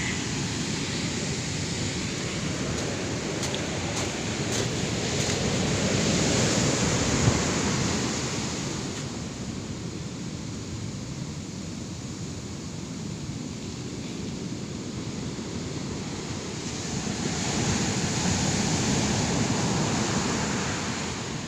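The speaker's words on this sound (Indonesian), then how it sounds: "berarti di Buton ini ombaknya gede ya?" Big ocean waves at Buton, Indonesia, roll and crash in a continuous broad roar of surf, swelling and easing over about twenty seconds, with wind rushing across the microphone and no talk.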